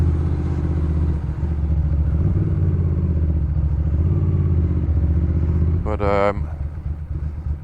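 A Ducati Monster S4 motorcycle engine idles loudly nearby in a steady low rumble, with a short higher burst near the end, while someone talks over it.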